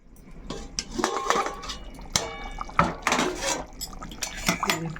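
A metal lid goes onto a pan of simmering mustard-poppy seed hilsa fish curry, giving several close clinks and clanks of metal on metal over a faint bubbling, with no speech.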